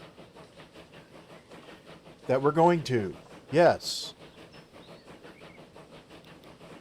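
A train running in the video game Transport Fever 2 gives a steady rumble with a faint rhythmic clatter in the background, while someone talks over it for a few seconds.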